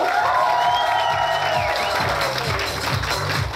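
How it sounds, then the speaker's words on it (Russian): Dense applause and cheering from a large crowd on the aft deck of a river cruise ship, steady and loud throughout, with a few whoops rising above the clapping. "Аплодисменты ему."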